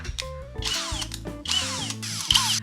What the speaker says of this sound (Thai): ถ้าใครมีสว่าน แบตนะครับ ก็จะทำให้งานของเราเร็วขึ้นนะครับ